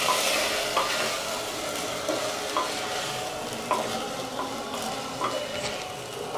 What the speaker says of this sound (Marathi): एखादा मिनिट या तुपावर हा चांगला परतून घ्यायचा